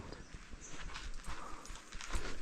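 A horse's hooves clip-clop in a steady walking rhythm as it hauls a load of wood, fairly faint and close, with some rustling and scraping of the load.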